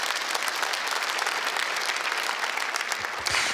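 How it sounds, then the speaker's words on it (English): A church audience breaks into steady applause that holds at an even level throughout, with no talking over it. "You can give that a round of applause if you want."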